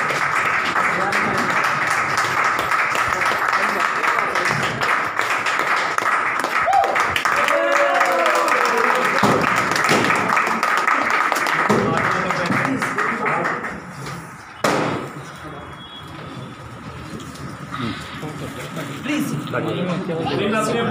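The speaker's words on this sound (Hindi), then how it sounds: "हम जोरदार तालियां कर सकते" Audience clapping and cheering at the opening ceremony of an education center, a long noisy stretch of applause mixed with chatter and laughter, briefly dropping away before resuming more quietly.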